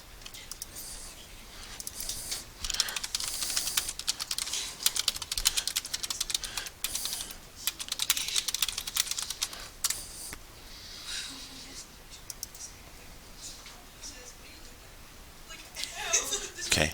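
Rapid keystrokes on a computer keyboard as a web search is typed, clicking in bursts of varied density throughout, close and moderately loud, with a person talking over much of it.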